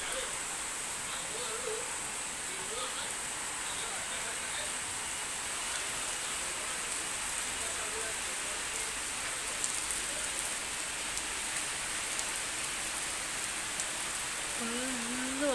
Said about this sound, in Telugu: వర్షం వస్తుందన్నమాట